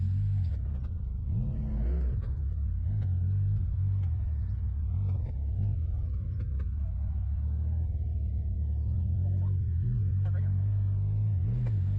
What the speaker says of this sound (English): The wiggling is me trying to get my rear quarter panel and tire off the tree.